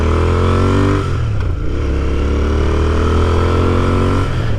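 A 2021 Royal Enfield Continental GT motorcycle with an AEW exhaust rumbles loudly up close, revving and dropping, then settling into a steady deep throb before rising again at the end.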